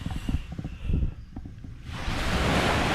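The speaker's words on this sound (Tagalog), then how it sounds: "Lakas ng alon, no?" Strong surf pounds a beach beside a campsite, first a low rumble under faint murmuring, then a loud broadband wash of breaking waves.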